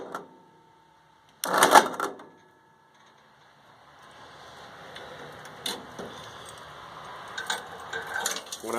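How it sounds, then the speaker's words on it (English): The starter on a Ford 8N farm tractor clanks loudly in a short metallic burst, then goes quiet before a longer stretch of lighter rattling and clicking follows. "it sounds like there's a clanking noise coming from the starter"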